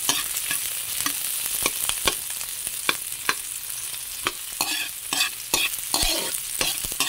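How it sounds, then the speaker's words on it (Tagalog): Ginger sautéing in an oil-filled pan, loud and close, with a sizzling bed broken by frequent sharp spatula clacks and scrapes at an irregular rhythm, and no talk. "Tapos, igisa lang natin itong luya."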